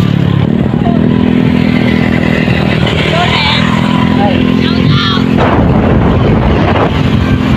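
A motorcycle engine runs steadily close by during a fiesta bike race in San Jose, with a loud continuous hum, wind buffeting and riders talking over it.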